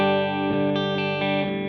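A clean, completely dry electric guitar played through a Nux Cerberus pedal and Victory V40 amp, with a sustained chord ringing out and a few soft note changes, close and alone.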